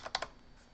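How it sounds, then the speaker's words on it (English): A username typed on a computer keyboard while logging into an Ubuntu machine: three quick close key taps, then quiet, with no talk. "So we're going to start by typing the username for that machine"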